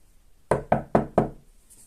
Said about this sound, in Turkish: Kapı mı çaldı?